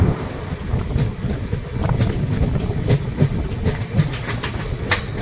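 The Teesta Torsa Express rumbles across a river bridge near New Cooch Behar in dense fog, a steady, loud roll of wheels with repeated metallic clicks and clatter throughout.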